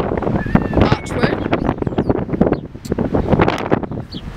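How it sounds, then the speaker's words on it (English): Strong wind gusts buffet the microphone at an outdoor skate park, with irregular bursts of rumbling wind noise and a person speaking over it. "It's ridiculously windy"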